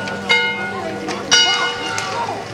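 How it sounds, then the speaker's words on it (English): A bell rung repeatedly at a high school football game, sounding for Chargers scores, with bright metallic strikes recurring every second or so over loud crowd noise and talk. "That bell's going to ring all night long. That just sounded 23 times for the Chargers."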